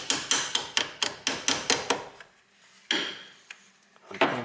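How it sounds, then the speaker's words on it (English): A hammer strikes metal while a brake cable is fitted on a 1991–2010 Toyota Corolla: about nine quick, evenly spaced close blows, a short pause, then two or three more sharp knocks. "a little bit hammering,"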